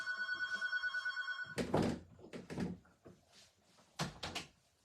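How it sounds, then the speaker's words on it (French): A ringing telephone cuts off, then a door is pushed shut with a close thud, followed by further soft knocks and bumps in a quiet room. "je vais fermer ma porte"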